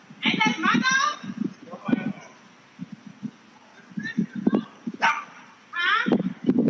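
Short, sharp barks and yips from a white French bulldog called Pepper come in bursts between pauses, with a person speaking nearby.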